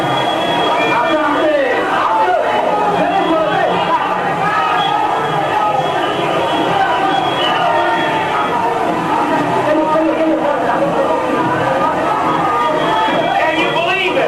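Huge crowds welcoming Muhammad Ali in Bangladesh in 1978, a dense continuous roar of cheering and shouting voices with a narrator speaking over it.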